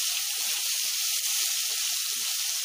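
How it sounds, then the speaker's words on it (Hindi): Tomatoes sautéing in a hot pan for chilli paneer, giving a steady, loud, close sizzle and hiss throughout with no talk. "अब इसमें हम ये टमाटर जो हमने लिए हैं इनको ऐड करके अच्छी तरह से सॉटे कर लेंगे।"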